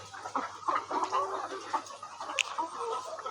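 Layer hens suffering from fowl cholera and a mild cold cluck in a poultry shed, a soft, continuous flock chatter of overlapping clucks with one sharper squawk partway through, with no speech.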